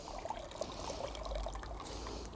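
Water squeezed out of a handful of moss trickles and patters into a jug, a soft continuous dribble with no voices.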